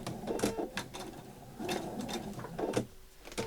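A vintage sewing machine top stitching a zip runs in several short bursts of rapid mechanical chatter, close and moderately quiet, with brief pauses between runs.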